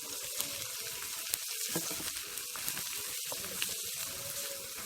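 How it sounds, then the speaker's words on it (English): Sausages fry in a pan with seasoning, giving a steady moderate sizzle with occasional sharp pops and light clinks, up close and without talk. "So now I'm going to add in the sausages in it."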